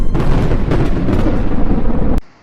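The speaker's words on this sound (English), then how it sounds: "Lightning struck the road." Lightning strike on a road, a loud, close, explosive crash of thunder rumbling for about two seconds before cutting off abruptly.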